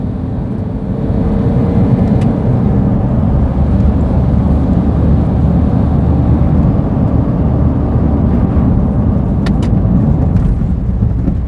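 Smart diesel car accelerating on the road with a touch of turbo lag, heard from inside: a loud, steady low engine drone and road rumble that holds throughout without any talk.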